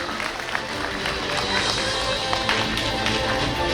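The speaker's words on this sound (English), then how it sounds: "Let us have a huge round of applause." An audience applauds at a Chandigarh University online convocation, with steady, dense clapping that holds at an even level for the whole stretch.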